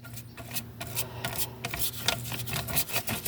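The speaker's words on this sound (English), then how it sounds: "Give it a good coat, a good rub in" A brush rubs a coat of paste onto paper in quick, scratchy strokes, a soft rasping with irregular ticks and swishes, close and fairly quiet over a low steady hum.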